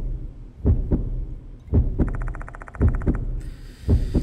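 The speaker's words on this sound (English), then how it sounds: "Also, that's our heartbeat." A heartbeat from the horror video game Spirit Hunter: Death Mark II thumps in regular paired beats, deep and close, as eerie chiming tones rise over it partway through.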